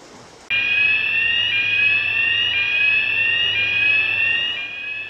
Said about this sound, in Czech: V případě, že uslyšíte tento požární alarm, musíte se ihned evakuovat na shromaždiště